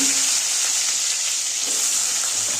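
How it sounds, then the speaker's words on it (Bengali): Pointed gourd and potato pieces fry in hot oil with cumin seeds in a kitchen pan, giving a close, continuous hissing sizzle throughout. "এবারে আমি পটল আলুগুলো ভেজে নেব"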